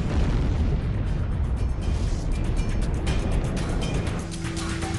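Explosion sound effect evoking the Tunguska event: a continuous, dense, loud rumbling roar that fills the whole stretch, fading slightly near the end, with no voices.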